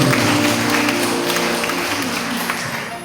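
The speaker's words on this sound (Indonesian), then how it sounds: "Tepuk tangan buat Tuhan." A church congregation applauds during a sermon, a loud, dense wash of clapping that slowly fades.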